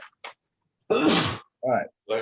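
A single loud sneeze bursts out in a lecture hall, short and sharp, between brief bits of a man's speech nearby.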